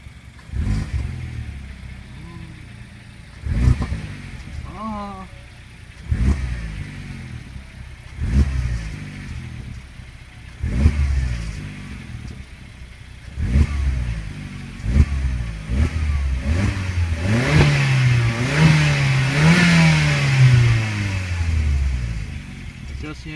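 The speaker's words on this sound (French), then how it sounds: "on va voir si je peux accélérer tranquillement" Peugeot 308 GTI three-door engine revved gently in a series of blips over idle, the later revs climbing higher and sustained, heard from close by with people talking intermittently over it.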